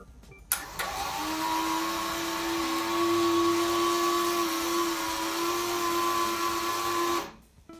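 A Tri-ang Railways R.45 model railway turntable motor whirs steadily for about seven seconds, a loud, even electric drone with a sharp start and a clean stop, and nobody speaks over it.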